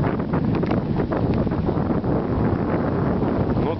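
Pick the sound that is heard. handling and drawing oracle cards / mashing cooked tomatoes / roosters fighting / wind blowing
wind blowing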